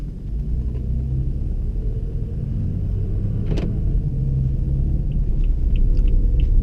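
Steady low road and engine rumble from inside a BMW M4 driving at night, a constant close drone with a faint click partway through.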